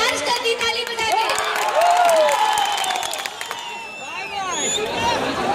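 A lively crowd cheers and shouts at a Bhojpuri star night concert in Doha, Qatar, with bursts of clapping and excited voices mixed into a noisy babble.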